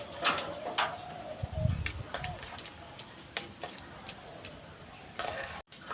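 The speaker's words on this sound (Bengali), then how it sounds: "এবার দেবো সুজি এইভাবে অল্প অল্প দেবো নাড়তে থাকবো" A spoon stirring semolina into boiled mashed potatoes in a pan, giving soft scraping strokes and scattered light taps against the pan, faint and fairly close.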